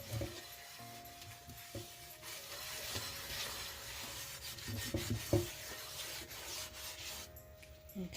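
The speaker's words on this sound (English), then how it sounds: "what you want to make sure you're doing is actually trying to get all of that rust off, washing it off" Rust is scrubbed off a cast iron pan with a steady, rough rubbing that runs the whole time at moderate level, joined by a few brief clinks and a faint background hum; nobody speaks.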